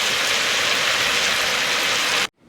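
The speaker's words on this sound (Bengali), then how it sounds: "মাংসটা আমি মিডিয়াম ফ্লেমে খুব ভালো করে কষে নেব।" Mutton with yogurt frying and being stirred on medium flame, a loud, dense close sizzle that cuts off abruptly near the end, with no voices.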